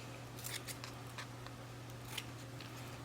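Scissors snip through a patterned sheet being trimmed for a DIY nightlight, giving a few faint, sparse crisp cuts over a steady low hum.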